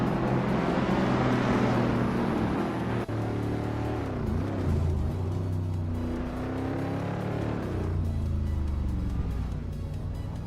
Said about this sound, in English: The vintage street cars are showing their age but still holding their own on this track.